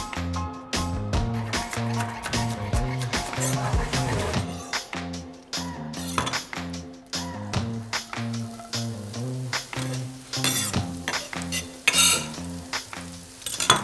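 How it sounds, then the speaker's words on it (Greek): Fresh onion sautés in olive oil with a pinch of salt, a little clarified butter and a whole garlic clove, giving a loud, continuous close-up sizzle with repeated clinks and scrapes of stirring. "Σοτάρουμε πρώτα το φρέσκο κρεμμύδι. Βάζουμε ένα κομμάτι σκόρδο μέσα ολόκληρο για να αρωματίσει το λάδι."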